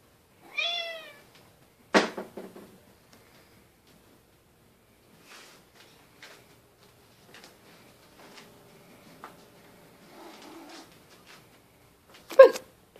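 House cats waiting to be fed make a few sharp meows as a door opens, followed by quiet pattering and faint shuffling, then a final short loud sound.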